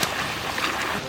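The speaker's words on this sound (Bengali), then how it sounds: "তাহলে আমি জল দিয়ে ঝোল করে নিই" Water pours steadily into chicken curry frying in a pan in a village kitchen, a continuous close hissing, splashing rush that fills the moment, with a voice speaking over it.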